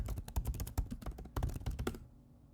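Rapid typing on a Mac keyboard entering a Terminal command, a quick irregular burst of close, crisp key clicks that stops abruptly, leaving near silence.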